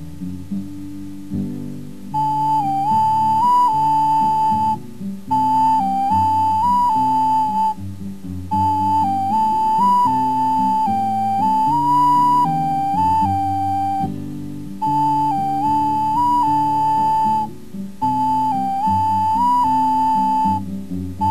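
A penny whistle plays a lilting jig melody in short repeated phrases over a backing accompaniment, with brief pauses between phrases.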